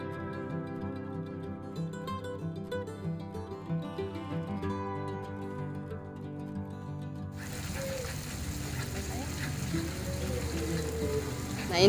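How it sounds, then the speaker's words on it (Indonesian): Galangal, scallion and lime leaves sautéing in a pan: a steady, soft sizzle and crackle rises clearly in the second half, after a stretch where background music dominates. "ini kita tumis sampai lebih tanak atau lebih matang ya"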